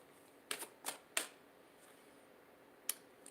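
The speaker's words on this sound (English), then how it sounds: "I am shuffling the Sacred Traveler Oracle here." Sacred Traveler Oracle cards being shuffled give a few crisp, faint riffling snaps in a quick cluster, then one more flick after a pause, against a quiet background.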